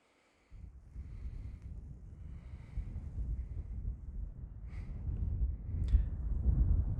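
Wind gusts buffet the microphone on a freezing desert night, a steady low rumble that builds and roughens with a few faint higher whistles over it.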